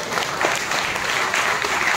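A church congregation at a watch night service applauds with steady, fairly even clapping that fills the entire clip at moderate loudness.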